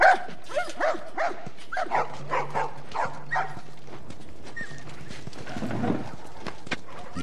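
Dogs barking in the video game The Last of Us, a series of sharp, fairly close barks in an irregular rhythm, followed by softer thumps and ambient game sounds.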